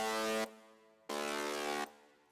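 A short keyboard synth melody of two sustained bright notes, each held and then cut off abruptly, with a brief gap between them, close and clear with no talking.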